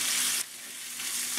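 Beef frying in a pan for a stir fry, with a loud hiss at first that drops quickly into a quieter, steady sizzle.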